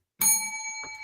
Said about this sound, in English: Bell for Trevor.